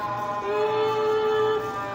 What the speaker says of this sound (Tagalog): tunog ng fuel pump motor ng ating mga gasolina?